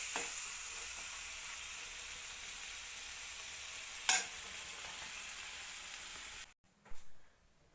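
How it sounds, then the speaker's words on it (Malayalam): Indian gooseberries sautéing in oil for a homemade amla pickle, a soft steady sizzle with a single sharp clink of a utensil midway and a brief stir near the end. "നന്നായിട്ട് എണ്ണ ഒഴിച്ച് നന്നായിട്ട് വഴറ്റുക"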